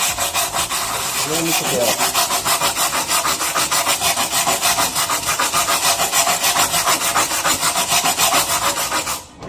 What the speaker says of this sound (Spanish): Esta sería una adecuada forma de limpieza de la soldadura.